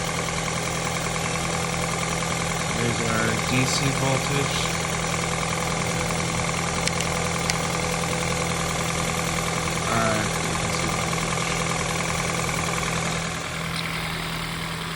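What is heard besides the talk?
Toyota car engine running at idle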